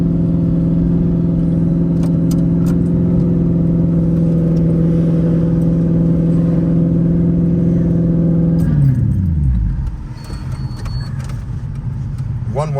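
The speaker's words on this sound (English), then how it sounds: "We just need to idle around this roundabout at a stupid RPM." A V8-swapped Volvo 240 wagon engine held at high, steady revs around a roundabout, loud and close from inside the car, then dropping sharply to a lower idle near the end.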